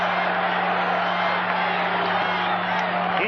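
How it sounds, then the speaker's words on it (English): Baseball stadium crowd at the 1985 World Series chanting a name, a steady dense roar of many voices heard from a distance, with a low hum running beneath. "Crowd chanting, Charlie, Charlie."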